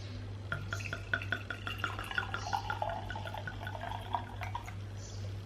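Wine trickling and splashing into a glass close by, with soft clinks and a low steady hum in the background.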